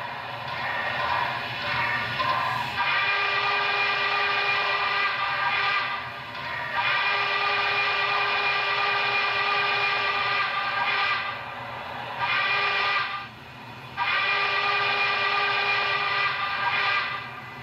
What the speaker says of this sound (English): So there you have the whistle